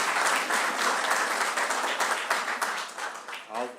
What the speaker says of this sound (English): Yes, there's a round of applause.